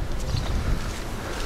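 Wind sweeps across a beach hotel in Naama Bay, Sharm el-Sheikh, Egypt, producing a steady, moderate low roar of microphone buffeting over the short stretch, with no voices.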